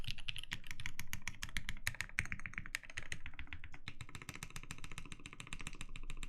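Rapid typing on a TGR Jane V2 CE mechanical keyboard fitted with NovelKey Cream switches, a close, busy stream of crisp keystrokes with brief pauses, heard alone without talk.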